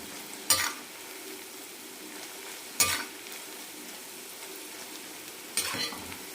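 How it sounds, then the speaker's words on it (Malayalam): Raw banana slices fry in oil over a medium-to-low flame for a crispy snack mixture, a steady faint sizzle broken by three short, sharp bursts of stirring scrapes, with no voices. "മീഡിയം ടു ലോ ഫ്ലെയിം മാറി മാറിയിട്ട് നല്ല ക്രിസ്പി ആകുന്നത് വരെ വറുത്തെടുക്കാം"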